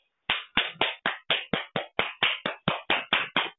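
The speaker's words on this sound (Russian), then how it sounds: "Слышишь аплодисменты, Пашенька?" A steady run of about fourteen sharp, evenly spaced claps, close and clear, with no voices.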